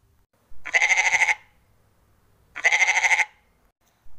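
A goat gives two loud, close, quavering bleats about two seconds apart, with the start of a third at the very end and near silence in between.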